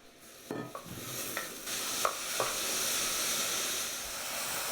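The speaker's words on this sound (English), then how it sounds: "Cook the onion until soft." Onion cooking in olive oil over medium heat, a steady sizzle that builds to a dense continuous hiss, broken early by several short scraping and tapping stirs.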